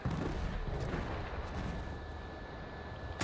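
Battlefield 1 battlefield artillery rumbles as dense, continuous low booming and crackling, a thick wash of distant gunfire and explosions with a sharper crack at the end.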